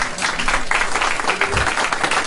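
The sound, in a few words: audience applause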